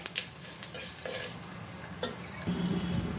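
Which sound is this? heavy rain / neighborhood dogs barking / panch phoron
panch phoron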